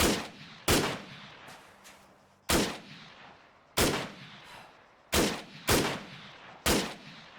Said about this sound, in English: let's try the AR-15 out, see what happens